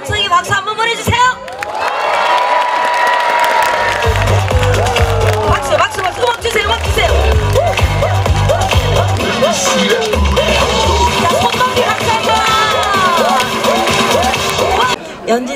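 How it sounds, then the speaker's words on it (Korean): Outdoor apartment-complex concert audience in Busan claps, cheers and whoops loudly, a dense sustained roar with children shouting and some thumping bangs, voices calling out over the applause. "사랑과 함성의 박수 한번 보내주세요"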